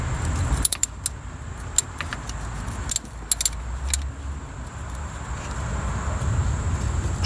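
A wrench with a 12 mm socket and extension loosens the mechanical fuel pump bolts on a Toyota 22R pickup engine, giving a few sharp metallic clicks and clinks over quiet shop background.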